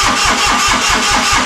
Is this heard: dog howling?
no